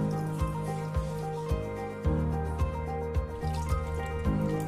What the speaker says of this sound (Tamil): இப்போ ஒரு bowl ல நம்ம ஊற வச்சிருக்க வெல்லத் தண்ணி வந்து சேர்த்துக்கலாம்.